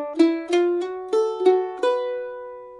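A mandolin plays a Cumberland Gap melody phrase with a semitone slide into a note, six crisp plucked notes in a steady rhythm with the last one left ringing, played alone.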